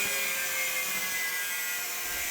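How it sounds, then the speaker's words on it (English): An angle grinder cuts a metal pin off a propane tank being built into a pizza oven, giving a steady, loud, high-pitched whine with gritty abrasive hiss that holds for a couple of seconds, no voices. "What I'm going to do is grind this pin out"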